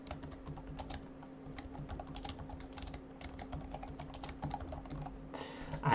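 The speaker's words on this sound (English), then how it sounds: "type in the description," Typing on a computer keyboard, steady close keystrokes tapping in an irregular run, with a quiet hum underneath and no talk.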